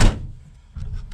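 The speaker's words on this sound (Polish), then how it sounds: "Jak się drzwi delikatnie zamykają." A car door swings shut gently, giving one soft close thump at the start followed by a faint rustle and light handling noise nearby.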